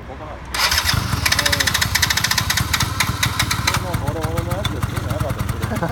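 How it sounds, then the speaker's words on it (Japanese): A small two-stroke engine on a Yamaha Grand Axis YA100W scooter idles with a steady, rapid putter close by, continuing throughout under people talking. "すみません、エンジンを聞かせてもらえますか？"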